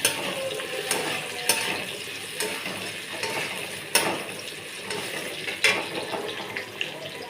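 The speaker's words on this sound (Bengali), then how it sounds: "আলুগুলোকে আমি ভালো মতো লাল লাল করে ভেজে নেব।" Potatoes fry in a pan with a dense, continuous sizzle, and sharp scraping clicks from stirring recur every second or two, close and moderately loud.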